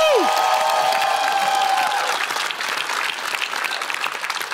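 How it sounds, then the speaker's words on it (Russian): An audience at a televised comedy roast breaks into strong, continuous applause, loudest at first after a brief musical sting, then easing slightly but carrying on. "И Ксения Собчак, для нее отдельные аплодисменты,"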